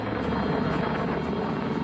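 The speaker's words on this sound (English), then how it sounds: "This is the Apache Longbow, the latest version of a military classic." An Apache Longbow military attack helicopter, a steady loud rotor and turbine roar with a throbbing wash that holds evenly throughout, with no talk.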